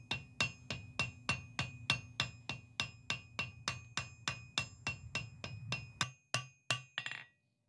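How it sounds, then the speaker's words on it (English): A ball peen hammer domes rivet heads on blacksmith-made flat bit tongs, tapping in a steady rapid rhythm of about twenty ringing metallic blows, slowing into a few final spaced strikes, fairly quiet and without speech. "So we can use the ball peen in a circular motion to put a nice dome"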